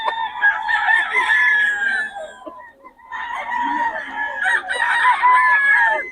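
A rooster crows twice, loud and near, each call a long drawn-out cock-a-doodle-doo separated by a short pause.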